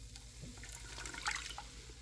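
Wet ingredients splash and trickle into the bowl of an Ankarsrum Assistant stand mixer, a brief soft liquid pour with a few drips over faint background hum.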